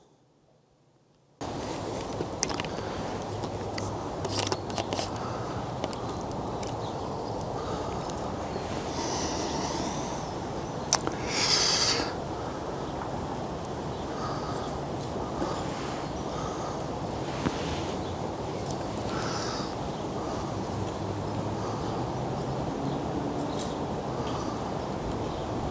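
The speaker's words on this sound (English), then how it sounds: "It's windy out here." Wind gusts roar and buffet a microphone outdoors during macro photography, a steady rushing blast that begins abruptly after a quiet moment and continues with occasional louder bursts.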